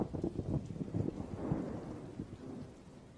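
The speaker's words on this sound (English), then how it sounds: "Throughout the summer, electrical storms roll across the desert, often shedding only drops of water." Thunder from a summer electrical storm over the sagebrush desert rolls as a low, continuous rumble with no speech, swelling slightly near the middle before fading.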